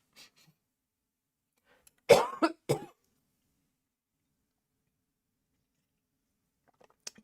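A sick person lets out a short burst of two or three close, harsh coughs, alone in an otherwise quiet room.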